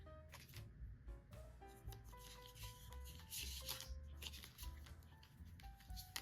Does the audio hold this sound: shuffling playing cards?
yes